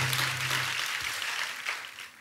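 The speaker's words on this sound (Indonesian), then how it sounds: "kasih tepuk tangan yang paling meriah" A church congregation applauds enthusiastically, a thick continuous clatter of many hands clapping at once, loud and close throughout the short stretch with a low hum underneath at first.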